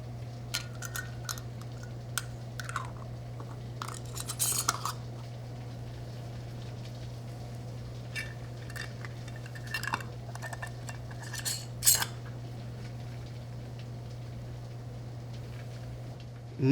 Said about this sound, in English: place the lid on the jar and hand tighten with the band